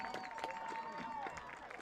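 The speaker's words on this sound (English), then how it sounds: "give them a big round of applause for all those that they've won" A stadium crowd applauds and cheers for the senior members of the Marching Patriots band at a 2019 school event, a steady, dense wash of clapping with faint tonal notes running through it.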